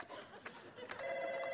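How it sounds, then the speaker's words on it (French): A telephone rings on a French television game show set, a steady electronic tone that starts partway through and continues, heard beneath studio chatter and voices. "Le téléphone sonne."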